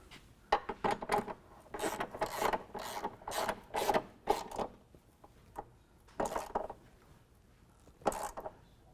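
Hand tools tighten bolts on a step bracket being fitted to a 2015 Jeep JK, heard up close as short bursts of ratcheting and scraping metal that come in irregular groups with pauses between them.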